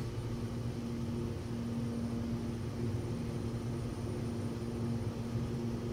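Simulated Lancair Evolution engine in the X-Plane 12 flight simulator during takeoff, a steady droning hum with a constant tonal whine holding at an even level throughout, with no talk.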